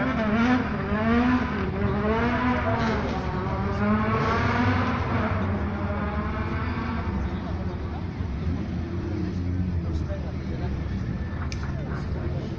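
A Peugeot 309 rally car revs hard and accelerates away at the Mirecourt rally while an announcer talks loudly over it throughout.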